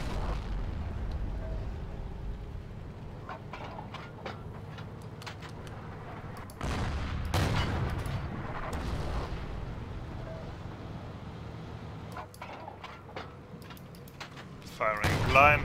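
Gunfire and explosions from a Forgotten Hope 2 multiplayer battle: a steady wash of distant firing with sharper bursts and heavier booms landing now and then, plus a loud burst at the end.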